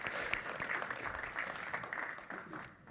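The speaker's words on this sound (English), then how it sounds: "let's give a little round of applause" A small audience at a youth soccer coaching workshop gives a short round of applause, a quiet, steady patter of clapping lasting a few seconds before tapering off.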